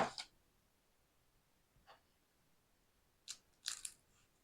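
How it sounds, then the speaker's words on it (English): A baked spinach and feta bite is broken open, giving a few short, quiet crisp crunches spread over several seconds with near silence between them. "Lovely bit of crunch."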